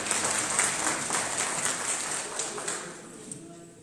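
Hearty applause from a crowd at a municipal ceremony honouring sanitation workers, a dense patter of clapping that holds steady and then thins toward the end, moderately loud.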